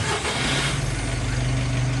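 Diesel engine of a Mitsubishi L300 Euro4 van idling steadily, a low continuous rumble heard up close with no talking.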